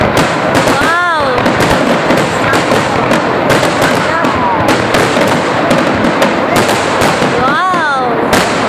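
Fireworks explode over Lake Burton in 2014 in a dense, loud barrage of crackling bursts and pops. Spectators exclaim and talk over the show.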